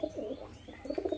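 Giribaz flying pigeons from an old bloodline give soft, low, throaty coos in a few short rounds, a faint murmuring close by with no voices over it.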